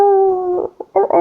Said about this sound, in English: you hear howling in the distance